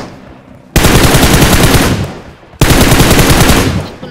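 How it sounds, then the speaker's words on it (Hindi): Automatic gunfire in a mobile shooting game: two loud, sustained bursts of rapid fire, close and alone, the second following a short pause. "यहाँ आते ही हमको गोलियां चलने की आवाज आती है"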